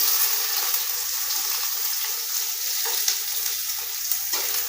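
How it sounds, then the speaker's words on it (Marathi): Chopped onion frying with cumin in a home kitchen pan, a soft continuous sizzle with faint occasional scrapes and stirs, close and steady throughout. "कांदा थोडासा लाल होईपर्यंत असा भाजून घ्यायचा"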